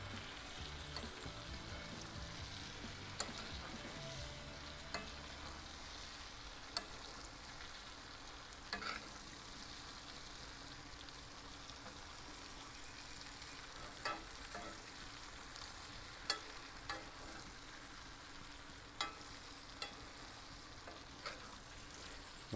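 A ribeye steak sizzles steadily in a cast iron skillet while being basted with butter and thyme, a continuous frying hiss with small scattered pops and spoon clinks, close by and with no talking.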